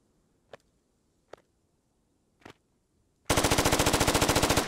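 Gunfire in the video game Squad: three sharp isolated shots spaced apart, then a loud rapid burst of automatic machine-gun fire, close and without voices.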